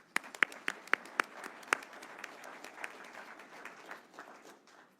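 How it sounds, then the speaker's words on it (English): A church congregation applauds its founding parish members with a few sharp nearby claps up front, then scattered, fainter clapping spread through a quiet hall that fades out. "Give them a round of applause."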